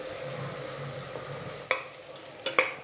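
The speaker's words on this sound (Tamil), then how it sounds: "வெங்காயம் நல்லா வதங்கிடுச்சு" Onions fry and sizzle in a pan with curry leaves and green chillies for a Kerala-style country chicken curry, a soft steady sizzle under a few sharp spoon scrapes and taps against the pan.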